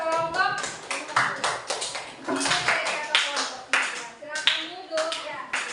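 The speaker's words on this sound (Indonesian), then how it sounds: "Tepuk tangan dulu buat kelompok." Classroom students clap for a group, a steady run of scattered hand claps with uneven rhythm, close by and fairly loud, continuing for several seconds.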